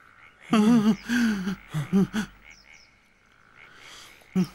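Frogs croak in a cartoon retelling of the plague of frogs in Pharaoh's Egypt, with a cluster of loud warbling croaks in quick bursts, then a quieter stretch and one last croak.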